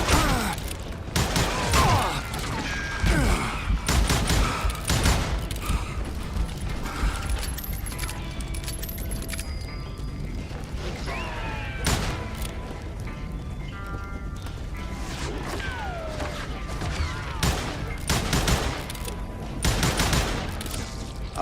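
Gunfire in the Western shooter Call of Juarez: Gunslinger, with repeated loud sharp shots and bursts spread across the clip, mixed with hoofbeats and jangling, busy and close throughout.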